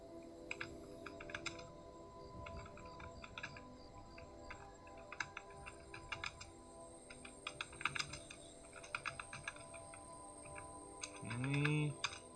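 Computer keyboard typing plays as scattered clusters of quiet clicks and taps in short bursts, soft and close, with a brief tonal sound near the end.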